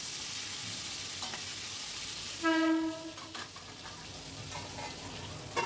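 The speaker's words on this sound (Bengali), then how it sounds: "দিয়ে আবারও এগুলোকে আমি একটু নাড়াচাড়া করে ভেজে নিচ্ছি।" Marinated pointed gourd frying in hot oil, crackling steadily as a spatula stirs and scrapes the pan, with a brief metallic ring from the utensil partway through.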